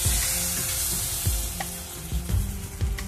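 Hot tadka of dried red chillies and red chilli powder hits cooked dal with a loud, dense sizzle, close up, with a few soft clinks and knocks from the pan or spoon throughout.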